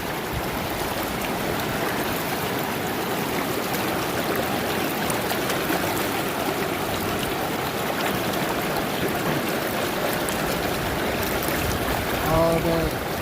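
Water rushes steadily through a Green Mountain Gold trap sluice in an outdoor creek, a continuous close churning wash of flowing water with no breaks.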